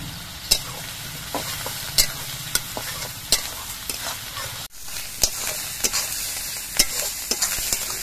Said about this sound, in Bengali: এবার এই পেঁয়াজগুলো কিছুক্ষণ ভেজে নিতে হবে